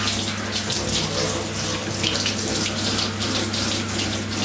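Tap water runs steadily from a faucet as natural 4B hair is rinsed at a sink, a continuous close splashing hiss with no talk.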